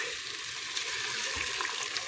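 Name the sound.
water poured into cooking pot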